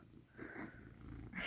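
A pet cat purrs softly and close by indoors, a brief, quiet rumbling breath that swells slightly near the end.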